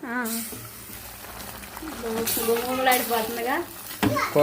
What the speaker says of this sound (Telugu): గోంగూర కూడా వేసేసుకుందాం ఇది కూడా తిప్పేసుకుందాం గోంగూర తిప్పేస్తున్నా